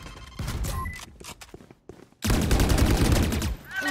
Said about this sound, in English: And I rapid fire when I shouldn't.